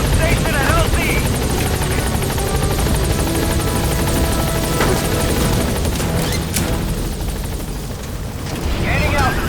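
A helicopter in the video game Metal Gear Solid V flies in toward a landing zone, its steady loud rotor drone filling the whole stretch with a brief dip near the end and faint game sounds layered over it.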